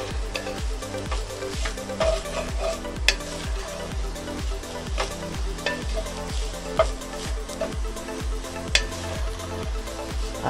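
Minced meat seasoned with salt, black pepper and oregano is stirred in a hot pan for lasagne, a sizzle under regular rhythmic scraping strokes, roughly two per second, with occasional sharp clinks of the utensil.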